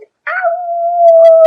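A pet dog named Theo howls in a home at bedtime, one sustained, wavering, close and loud howl after a brief yip.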